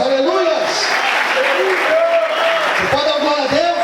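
A church congregation claps steadily for the full few seconds, a dense wash of applause with a voice carrying over it.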